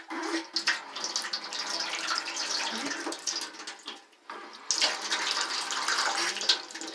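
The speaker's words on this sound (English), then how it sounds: "Running water." Water gushes steadily from a tap into a sink in an off-grid cabin, a close, continuous splashing rush that briefly dips before resuming full strength.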